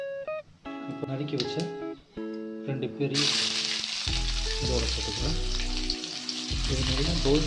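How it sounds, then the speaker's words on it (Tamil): Chopped onions hiss and crackle as they hit a pan of hot oil with cloves, cinnamon, bay leaf and garam masala for a Chettinad chicken gravy. The loud sizzle starts abruptly, then runs steadily under a voice and tonal background sound. "இது நல்லா கோல்டன் கலரில் வர வரைக்கும் நல்லா வதக்கி வச்சுக்கலாம்."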